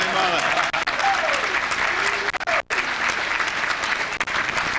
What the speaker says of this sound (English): give a big round of applause to my mother.